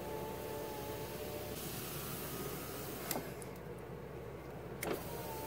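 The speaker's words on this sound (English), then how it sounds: "Power windows." Truck power windows whirring steadily in a parked vehicle, a faint continuous motor hum with a couple of soft clicks, no talking.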